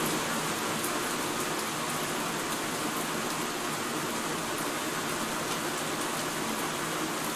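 Rain falling in the fantasy game Pathfinder: Ruins of Azlant, a constant, even hiss of rainfall with no break, steady and moderately loud with no talk over it.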